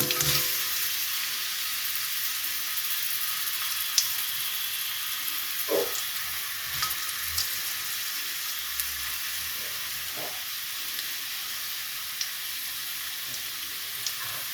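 Chopped onion frying in a pan, a steady close sizzle and hiss with occasional soft stirring clicks and scrapes, no voices.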